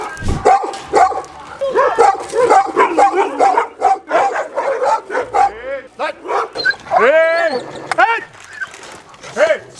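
Yipping dog barks and whiny howls mix with excited talking nearby, loud and continuous.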